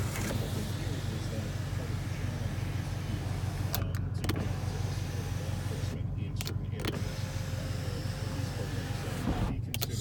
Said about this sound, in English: Sunroof is working correctly. It's not binding up.